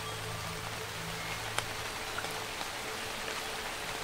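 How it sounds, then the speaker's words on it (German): Rain pattering on large plant leaves in a children's bedtime audio drama, a soft, even hiss with occasional faint drop ticks, no voices. "Der Regen prasselt auf die grossen Blätter der Pflanzen im Schlummerland"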